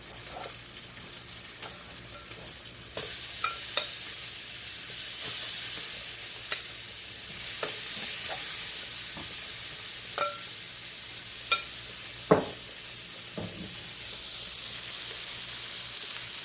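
Peppers and onions sizzle steadily in a pan of turkey sauce, a continuous frying hiss with occasional stirring clicks and scrapes, close and alone without voices.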